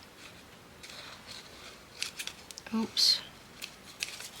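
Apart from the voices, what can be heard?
scissors cutting off bits of paper for journal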